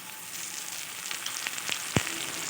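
Browned onions sizzle steadily in hot oil as dried chilli, cumin and ginger paste go in, a close, even frying hiss with scattered pops and one sharp clink near the end, no voices.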